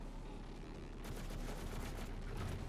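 Rapid gunfire in the Doom Eternal shooter game, a steady barrage of overlapping shots that grows a little denser and louder partway through, with no gaps.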